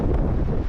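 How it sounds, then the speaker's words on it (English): Strong winter wind buffets the microphone with a constant, loud low-frequency roar and rumble, steady throughout with no voices. "It's incredibly windy."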